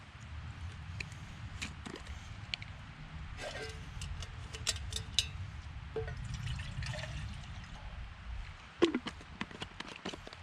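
Irregular drips and small trickles of water falling through a camping water purifier into a container, with scattered sharper drops near the end over a low background rumble, in a forest.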